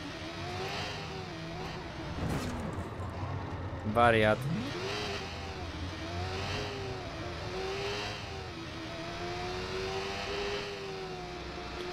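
Motorcycle engine in the video game Watch Dogs revving and droning steadily throughout, its pitch rising and falling in waves, with a brief sharp whine near the middle while someone talks over it.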